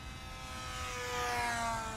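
A green 3D-printed Craycle Cub RC airplane hums with a steady, even motor drone in flight, swelling slightly midway, faint and unaccompanied by talk.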